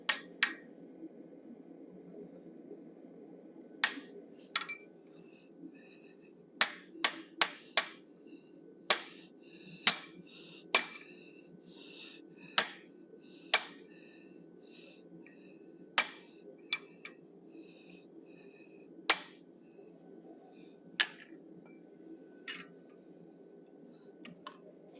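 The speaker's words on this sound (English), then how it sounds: "Then I'm using a 1/2 inch necking tool to smooth up that area." Sharp metallic strikes from a half-inch necking tool shaping hot steel for a forged bison head, ringing out singly and in quick bursts of two or three at irregular intervals over a low, steady background hum.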